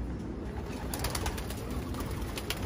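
Pigeons in a loft give soft, low, throaty coos, faint and somewhat muffled over a steady background rumble, with a few brief brighter chirps and rustles scattered through the short stretch.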